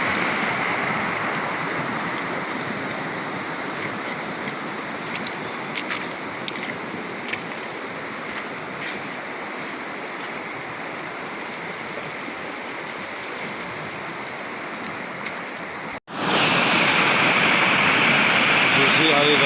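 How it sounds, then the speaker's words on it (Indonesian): Fast floodwater of a river in a flash flood, diverted from its channel into village farmland, roars as a loud, steady broadband rush throughout, briefly cutting out near the end before resuming even louder and closer. "Seharusnya aliran sungai mengalir ke arah sini, tapi ini sudah pindah kemari ke perkebunan warga."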